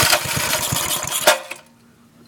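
A 1990 Briggs edger engine idles with a rough, pulsing putter that runs steadily, then sputters and dies away to near silence.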